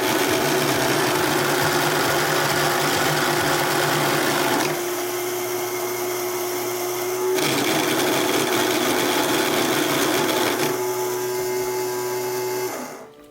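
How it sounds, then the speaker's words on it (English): A small windmill model's electric motor and gear train run steadily after the drive gear is shifted to a smaller gear, giving a continuous whirring, buzzing hum with a slight change in pitch and load partway through. "Now let's shift the drive gear"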